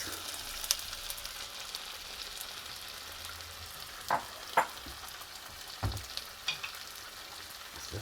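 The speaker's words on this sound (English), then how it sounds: "Get in a little bit of oil, enough oil. And we're going to drop in 2 eggs." Two eggs frying in a little oil in a wok for pad thai, a steady quiet sizzle with a few sharp crackles and pops scattered through, close and alone with no talk.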